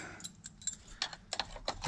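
Ford F450 truck keys jangling close by in a few quick bursts of bright metallic clinks, with short pauses between shakes.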